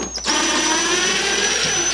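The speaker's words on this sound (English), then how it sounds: "Straight bit screws don't cooperate with impact drivers very often." An impact driver drives straight-slot screws while a tool box is being restored: a loud, close, continuous motor whine with a high tonal edge that holds steady for about two seconds, with no voice over it.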